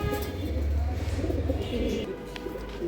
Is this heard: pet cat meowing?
no